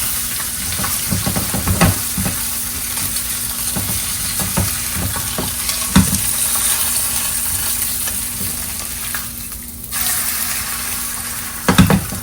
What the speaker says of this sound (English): We're gonna fry it on that side.